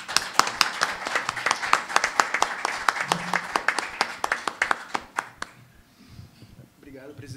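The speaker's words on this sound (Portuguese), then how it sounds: "Nós vamos recebê-lo com aplausos de boas-vindas" At a literary lecture, an audience gives welcoming applause, a moderate spread of claps with a few sharper ones standing out, fading out after about five seconds as voices begin.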